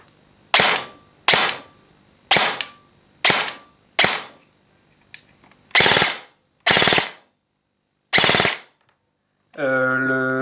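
Eight sharp, loud shots from a B4 LRP Bolt airsoft replica ring out at irregular intervals, each a crisp crack with a short decay, close to the listener, followed by a brief electronic beep or tone at the end.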